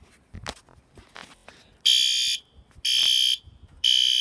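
A System Sensor P2RL fire alarm horn-strobe sounds its second tone at low volume: three loud, steady electronic blasts, each about half a second to a second long with short gaps. Faint handling noises come before the first blast.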